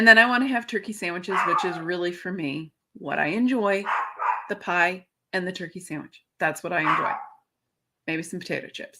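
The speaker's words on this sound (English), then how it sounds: "Please pardon my dog in the background." A dog barks in the background indoors, with a few short yips breaking through while someone talks steadily over them in the foreground.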